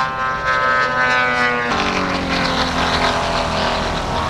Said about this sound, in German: da von links kommt der Hubschrauber im Tiefflug ran